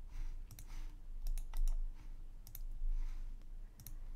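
Quick computer keyboard and mouse clicks come in small clusters while keys are copied and pasted during WordPress setup. They are faint and close-miked over a low hum.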